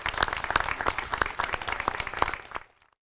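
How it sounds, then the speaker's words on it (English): Crowd applause at a school district agricultural project center ribbon cutting ceremony, steady dense clapping from a gathered audience for over two seconds before cutting off to quiet. "Let's give them a big round of applause."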